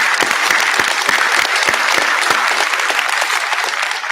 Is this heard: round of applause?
yes